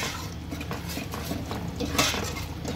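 Spices being stirred into a ground masala paste in a cooking pan for a traditional taro-leaf (alu) bhaji, with steady scraping and soft clinks of a spoon against metal, close and continuous.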